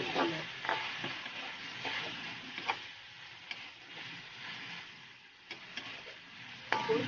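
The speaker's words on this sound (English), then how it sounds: "At haluin po natin ulit." Food being stirred in a pan during a school cooking competition, with broccoli and mushrooms just seasoned with pepper; a steady soft sizzle sits under scattered scraping clicks of the utensil, fairly close, with no talking.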